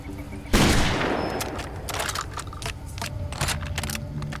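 A double barrel shotgun in Far Cry 2 fires one loud close blast that decays slowly, followed by a series of light clicking and clattering reload sounds.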